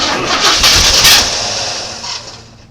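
A 1980 Chevy C30 dually engine cranking with a little gas in the carb on its first start in 26 years, giving a loud, rough, broadband churn for about two seconds before fading away, with no voices.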